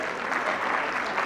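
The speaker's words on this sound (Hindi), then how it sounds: "हम तालियां बजाते रहेंगे" Audience applause in a hall at a spiritual festival as senior speakers walk onto the stage; steady, dense clapping from a crowd, fairly even and sustained throughout.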